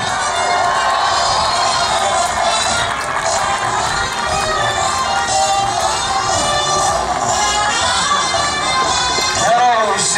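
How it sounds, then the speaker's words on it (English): A crowd in the grandstand at a fair's wild west show cheers and whoops steadily for a cowgirl trick rider, the roar loud and sustained throughout with shouting voices mixed in. "This always brings a great big cheer from the audience."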